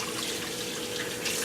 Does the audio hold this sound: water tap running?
yes